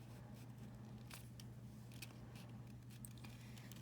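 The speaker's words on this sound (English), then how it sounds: "I think we could cut off a little bit of it" Scissors trimming a small piece off a paper sheet for a paper dragon craft, soft steady snipping and scraping over a constant low hum, close and fairly quiet.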